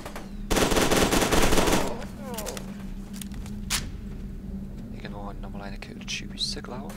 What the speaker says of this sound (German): Schüsse, glaube ich.